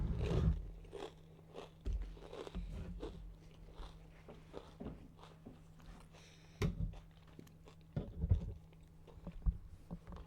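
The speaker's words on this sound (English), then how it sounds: "If you hear crunching sounds, that's the chips." Crunching of chips being eaten close to the mic, in irregular bursts of crisp biting and chewing spread over about ten seconds under a steady low hum, with no speech.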